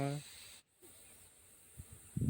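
A Russell viper caught during a rescue in Devanakonda gives off a faint, airy hiss, quiet and close, followed by a pause and soft, low voice fragments at the end.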